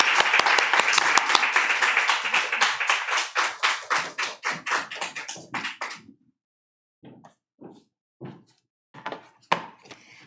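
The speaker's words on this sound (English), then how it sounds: "let's give a round of applause to Alex." An audience at a university MFA reading series claps enthusiastically. The applause rises quickly, then thins to a few scattered claps and fades, with no talking over it.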